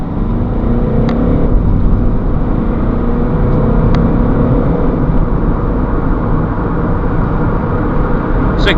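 A 2011 Honda CR-V EX 2.2 i-DTEC diesel automatic accelerating hard from a standstill in a 0-60 test, a loud, steady engine and road drone heard from inside the cabin.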